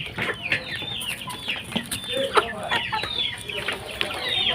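Backyard chickens clucking and chattering close by, a busy run of short overlapping calls with a few louder squawks, continuous throughout with no talking.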